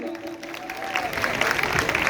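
Audience at a college cultural fest stage event breaking into applause, a dense wash of clapping that swells and stays loud through the end.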